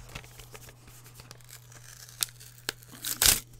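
An envelope is torn open by hand. Paper rustles and crinkles, then there are a few sharp rips and a louder ripping burst near the end, heard close up with a faint steady hum underneath.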